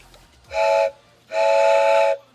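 Train whistle sound effect played as a hype-train cue on a livestream: two loud, sustained steam-style blasts, a short toot followed by a longer one, each ringing with a steady harmonic tone.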